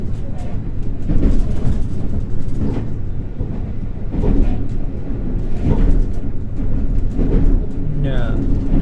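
Resort Shirakami scenic train riding through Japan, a steady low rumble of wheels and carriage noise with faint rhythmic clatter, a voice talking over it throughout.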